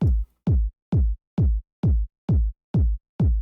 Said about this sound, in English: Just a nice punchy kick sample.